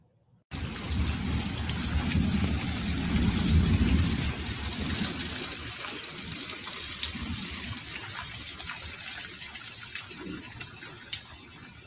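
Heavy rain pouring during a Chicago thunderstorm and flash flood, a dense close-up roar of rainfall with low rumbling thunder swelling in the first few seconds, then steady downpour continuing.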